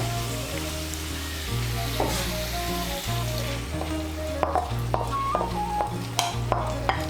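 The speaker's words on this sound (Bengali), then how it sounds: "এর মধ্যে আমি দিয়ে দেব পেঁয়াজ টমেটোর যে আমি পেস্টটা বানিয়ে রেখেছিলাম" Onion and tomato paste sizzles loudly in a hot pan for butter chicken masala while a utensil stirs it, with a steady frying hiss and several sharp metallic scrapes and clinks near the end.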